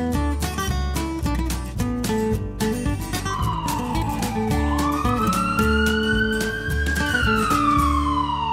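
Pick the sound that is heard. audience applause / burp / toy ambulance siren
toy ambulance siren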